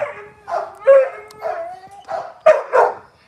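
Near and loud, a bandog lets out a run of drawn-out, howling barks that rise and fall in pitch, about six calls spaced with brief pauses.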